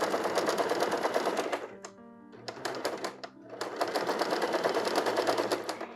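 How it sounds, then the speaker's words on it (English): A domestic straight-stitch sewing machine runs an overlock-style stitch along the edge of knit fabric, sewing in steady whirring bursts that pause briefly in the middle before resuming, close and fairly loud with no talk. "I am sewing right on the edge of my fabric here for this stitch."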